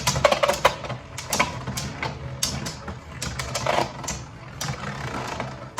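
Beyblade spinning tops launched into a stadium clatter and collide in rapid, irregular bursts of sharp metallic-plastic clicks and scrapes, close and fairly loud.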